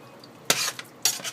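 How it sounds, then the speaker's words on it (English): A utensil scrapes through vegetable bolognese sauce in a pan in two short, close strokes separated by a pause, with faint clinks against the pan and no talking. "Y mezcla todo"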